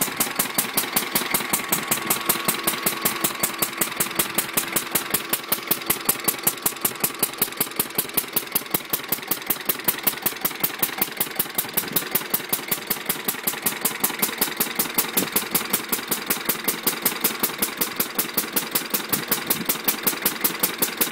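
Listeroid 6 hp single-cylinder diesel engine, an Indian-made copy of a Lister, fitted with an old combine air cleaner, thumping steadily at a slow even rhythm, loud and close, with no talk.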